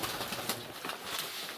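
Pigeons gather close around a grain feeder, their soft cooing mixed with rustling and a wing flutter in a steady, busy texture with no talk.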